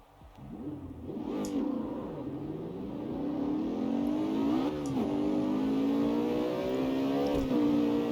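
Car fitted with a bigger turbo accelerating in the CarX Street video game, engine note climbing steadily through the gears, with a brief dip at each shift.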